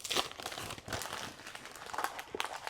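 Christmas wrapping paper crinkles and tears close by as a book is unwrapped, in a run of uneven rustling bursts with no talking.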